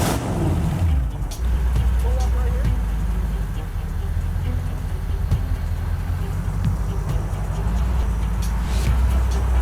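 Hot rod engine running just above idle while being driven, a loud, steady low rumble with a rough, throbbing texture, faint clunks and a voice talking over it.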